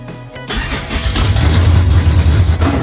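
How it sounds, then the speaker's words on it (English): A Chevy Nova's small block V8 cranks briefly, then fires up and settles into a loud, steady, rumbling idle close to the microphone. "The little small block fired right up"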